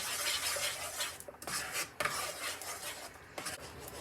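A spoon scrapes and rubs around a pot on a stove turned down very low after lemon is added, making a close, continuous rasping swish with brief pauses and no talking.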